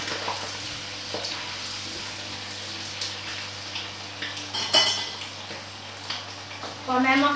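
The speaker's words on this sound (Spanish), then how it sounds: "Y en él vamos a freír el tomate que tenemos aquí triturado." Crushed tomato frying in a pan for blood and onion stew, a constant low sizzle close by with clinks of a pan and utensil and stirring scrapes, with brief voices.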